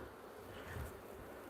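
Agitated honeybees buzz at an open hive during an afternoon inspection, a steady dense drone with a slight swell midway, close and continuous with no talking.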